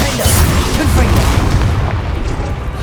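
Confringo fire spell blasts in Hogwarts Legacy: a continuous run of loud, rumbling booming bursts with low-end roar, dense and unbroken under a faint voice.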